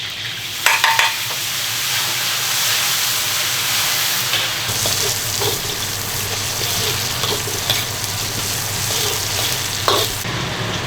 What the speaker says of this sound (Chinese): 好的香料下锅，